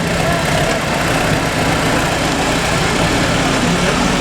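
A tractor engine runs loud and close at a kokpari horse game in Urgut, Uzbekistan, a steady dense rumble with no letup, and crowd noise mixes in beneath it.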